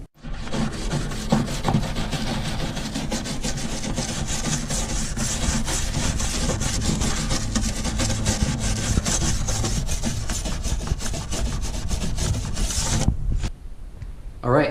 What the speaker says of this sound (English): We're going through with the wire brush